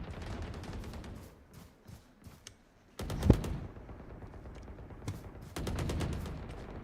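Gunfire in a video game shooting practice round, with loud automatic bursts and single shots in uneven clusters, some close and punchy, others rattling in longer volleys, with no talk over them.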